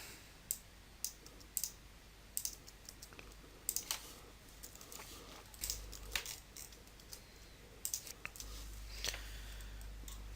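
Sparse, quiet clicks of someone typing C++ code on a computer keyboard, arriving in short irregular bursts with pauses between keystrokes, over a faint steady background hum.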